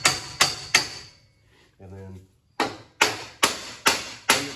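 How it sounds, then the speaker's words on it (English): Heavy hammer blows ring out on the clutch fork of a Subaru Impreza 2.5i manual transmission: eight sharp metallic strikes in an uneven rhythm, loud and close, with a short spoken phrase in a gap between them. "there's all kinds of different hammers, but in this case I like big hammers"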